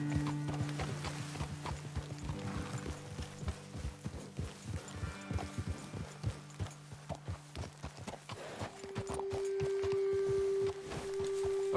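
Horses walk along in Red Dead Redemption 2, their hooves clip-clopping in a steady close rhythm for several seconds, with faint creaks, a low hum and a sustained tone near the end.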